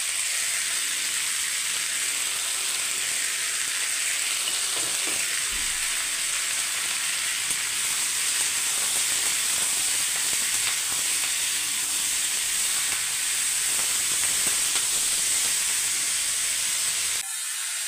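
Tomatoes sautéing in a pan, a continuous loud sizzle and hiss that runs steadily throughout and cuts off abruptly at the end, with no voices.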